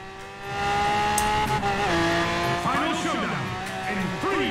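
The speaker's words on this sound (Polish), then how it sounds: "I gaz, kurde, piętą w podłogę" A car in the Forza Horizon 4 racing game accelerates hard, its engine revving up through rising and falling gear sweeps with tire squeal, loud and close, while someone talks excitedly over it.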